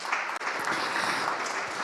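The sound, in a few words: audience applause for panelists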